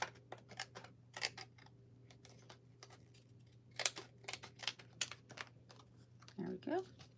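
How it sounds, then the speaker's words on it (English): Scissors snip through material during a crafting session, a quick irregular series of crisp clicks over a faint steady hum, with a brief voice near the end. "Scissors."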